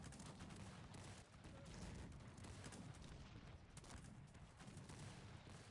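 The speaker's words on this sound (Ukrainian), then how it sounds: "13 гармат, дивися, якийсь залп." A dense, continuous barrage of booming cannon fire from a 13-gun volley in the strategy game Cossacks 3, loud and overlapping throughout with no pauses and no voices.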